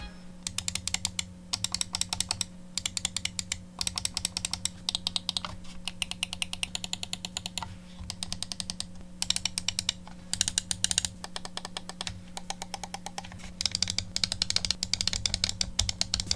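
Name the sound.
clicking Glorious D2 PRO 8K wireless mouse buttons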